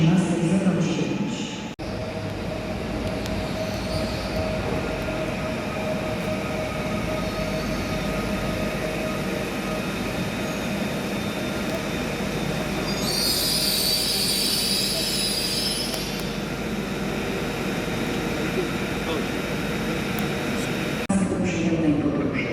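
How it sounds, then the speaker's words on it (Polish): Train pulling into a platform at Kraków Główny station, a long steady rumble of wheels and carriages with a brief high squeal partway through, fairly loud and continuous with station ambience around it. "Wjedzie na tor 10 przy peronie 2."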